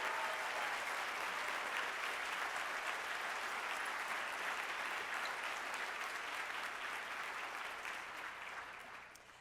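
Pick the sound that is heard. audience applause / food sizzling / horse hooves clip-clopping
audience applause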